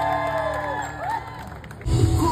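An audience at an influencer meet-up at Vega Circle in Siliguri breaks into loud applause and cheering, a sudden burst of crowd noise after a stretch of music and murmur.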